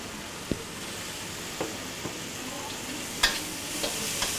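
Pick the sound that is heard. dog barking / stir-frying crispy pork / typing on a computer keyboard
stir-frying crispy pork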